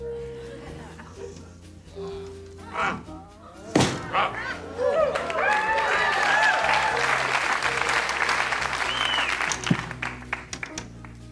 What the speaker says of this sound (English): Slight applause. I was expecting more